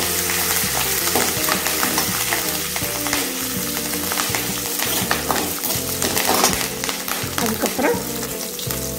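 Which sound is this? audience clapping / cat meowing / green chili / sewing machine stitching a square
green chili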